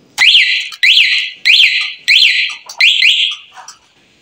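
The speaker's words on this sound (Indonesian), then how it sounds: "Kalau ini alarm ya, bisa dipencet itu langsung dia bunyi ya." Anti-theft remote alarm fitted to a Honda Beat motorcycle, sounding close and loud as five sharp rising-falling electronic siren bursts in an even rhythm, then cutting off.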